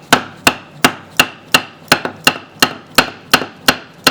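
The strike pommel of a knife whacks something hard in a steady series of about twelve sharp, loud, evenly spaced knocks, close up with no talking.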